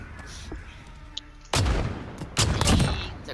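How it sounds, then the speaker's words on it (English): Shotgun blasts in the Modern Warfare video game, two loud booming shots about a second apart that end a stretch of quieter game noise. "Oh my god, that shotgun's crazy."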